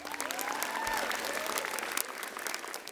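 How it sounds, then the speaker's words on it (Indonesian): An audience at the Komika Vaganza stand-up comedy show applauds comedian Muhadkly Acho, a dense, steady wash of clapping with cheers and a faint whistle-like tone threading through it. "Tepuk tangan sekali lagi buat Aco."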